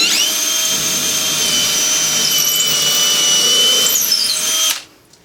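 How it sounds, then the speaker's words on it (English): A power drill whines steadily and loudly for several seconds, pitch wavering slightly as it bores a hole through the wooden benchwork of a model railroad layout, then winds down and stops. "What we're going to do is go and just drill a hole right here."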